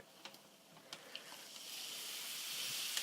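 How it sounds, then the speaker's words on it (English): A steady hissing sizzle builds and holds as lemon bar filling is poured into a hot baking pan over a browned crust, with a few faint clicks and pops early on. "You can hear that sizzle."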